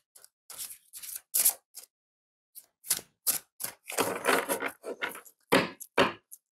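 Oracle cards being shuffled by hand, with a run of brisk, papery riffling and sliding bursts in an irregular rhythm, close and fairly quiet with no talk.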